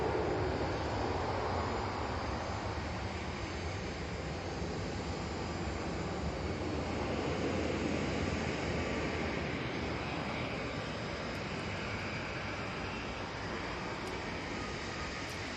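An EasyJet Airbus A320 departs Manchester Airport for Gibraltar, its jet engines giving a steady, loud broadband roar that holds evenly throughout with no talk.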